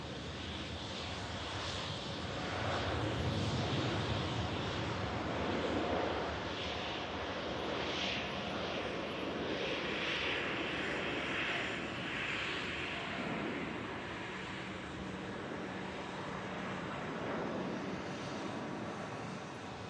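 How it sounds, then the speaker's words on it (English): A Gulf Air Boeing 787 Dreamliner departs from the southern runway at Manchester Airport, its engines a broad, steady roar that swells and then slowly eases, heard from a distance with no talk. "Gulf Air Dreamliner on the southern runway on the departure out to Bahrain."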